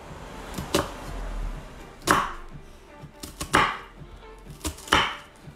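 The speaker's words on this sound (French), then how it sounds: "on coupe ses oignons" A knife chops onion coarsely on a cutting board, five or six sharp, well-spaced thuds against the board with quiet gaps between them, up close and without talk.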